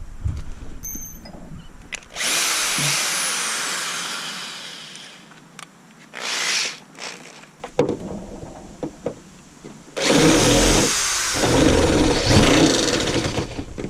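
A power drill bores holes into the metal hood of a 2003 Honda Accord LX, with loud sustained whirring bursts that start, stop and restart, close by and without talk.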